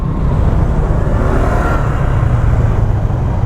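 Road traffic around a motorcycle on a ride near Barasoain Church, a dense steady rumble of engines and wind noise throughout, loud and close with no clear single vehicle standing out.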